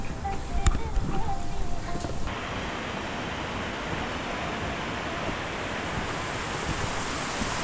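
A steady, dense roar of falling water from the holy Shiva Dhara waterfall high in the Barun Valley, at 4,330 m, fills the scene continuously, with a few faint knocks early on.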